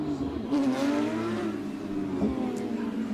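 A Porsche Carrera Cup race car circulates a wet Circuit Gilles-Villeneuve, its engine revving and sliding through pitch changes at moderate distance, a steady droning whine with brief surges.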